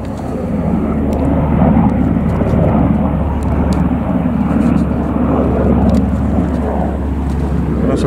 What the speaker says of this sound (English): You're all right with a helicopter noise, aren't you?